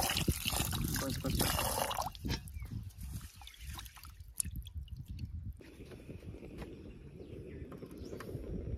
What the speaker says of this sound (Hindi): अब इसमें पानी ऐड करते हैं चावल में चढ़ाने के लिए